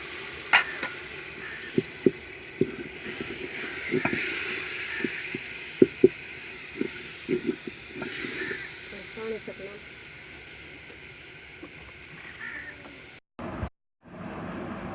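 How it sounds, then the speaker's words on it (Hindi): Moong dal tipped into a hot pan in a village kitchen gives a soft, steady sizzle with occasional stirring clicks and scrapes, fairly quiet and close, ending in a brief cutoff. "अब मूंग की दाल डालेंगे।"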